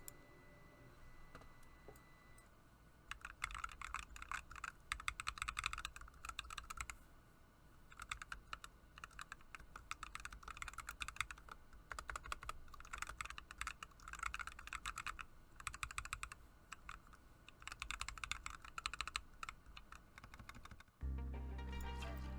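Typing on a nullbits Snap 75% mechanical keyboard built with Akko Lavender tactile switches, a quiet close run of rapid clacking keystrokes in bursts with short pauses, ending in a thump.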